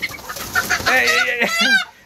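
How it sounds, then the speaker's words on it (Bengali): A desi chicken being caught gives a brief, agitated burst of close clucks and squawks, rising in a harsh cackle before stopping abruptly. "এখন আমি আপনাদের মুরগি ধরা দেখাই যে মিমি কীভাবে মুরগি ধরে"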